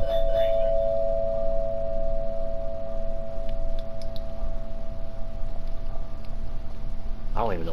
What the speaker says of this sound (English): The doorbell ringing.